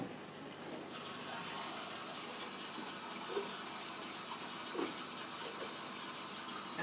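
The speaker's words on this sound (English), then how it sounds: "I'm gonna add water before I add the seasonings" Water is poured from a measuring cup into a pot of chili, a steady broad hiss and gentle splashing that sets in after a second and continues evenly, close by with no speech.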